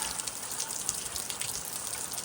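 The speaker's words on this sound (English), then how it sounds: "Not that I'm complaining, we need the rain" Rain from a passing storm falls over a garden, a steady soft hiss of drops with faint patters throughout, fairly quiet and continuous with no voices.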